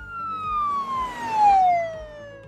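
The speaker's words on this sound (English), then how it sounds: "This is why we hear a pitch change as a police car drives down a road." A police siren wails as a car passes, its pitch sliding steadily downward as it moves by, loud and clear over faint road noise.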